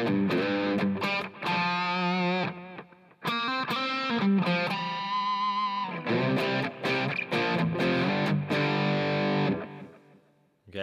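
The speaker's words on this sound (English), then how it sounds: "when you put reverb and delay into the input of a distorted amplifier, the reverb and delays are also distorted as well" Electric guitar played through a Headrush pedalboard into a distorted amp model with reverb and delay, heavily overdriven chords and notes ringing out in loud phrases with brief gaps between them, no talk.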